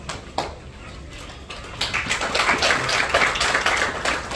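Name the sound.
journalists applauding at a press briefing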